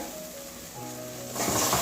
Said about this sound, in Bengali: কষাতে হবে যতক্ষণ মশলাটা ফুটছে না ততক্ষণ কষাবো